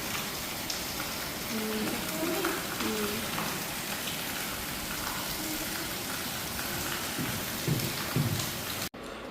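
Heavy rain falling outdoors, a dense continuous hiss filling the whole clip, with faint voices talking underneath.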